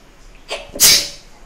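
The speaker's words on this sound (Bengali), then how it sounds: "হাঁচিটা আসে" A single loud sneeze up close: a quick sharp intake followed by an explosive burst, then quiet.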